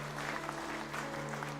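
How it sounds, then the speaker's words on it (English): A church congregation claps together in a sustained, even round of applause during an evening service, dense and steady from start to finish with a low organ-like hum held beneath. "would you give God a clap offering tonight that honors God and honors his servant tonight?"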